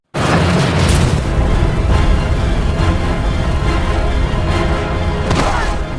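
A film scene where dozens of bombs go off after heavy equipment drops a load onto them, heard as one massive, sustained roaring blast that starts abruptly and rumbles on loud and dense throughout.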